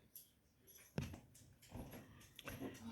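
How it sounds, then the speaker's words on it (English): A dog whimpers in short, thin, high whines, fairly faint and intermittent over a quiet background with no talking. "Is another dog somewhere?"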